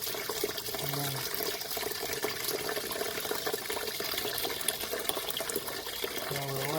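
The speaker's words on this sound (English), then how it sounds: "Now we'll wash your rice, you know." Rice being washed in running water, a steady loud gush and splash from a tap filling a pot, continuous throughout with faint handling underneath.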